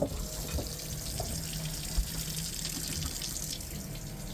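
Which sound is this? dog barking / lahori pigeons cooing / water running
water running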